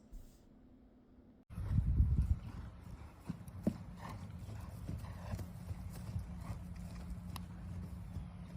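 A horse walking with clip-clopping hooves, a rhythmic series of thuds that starts abruptly after a moment of quiet, with faint background noise around it.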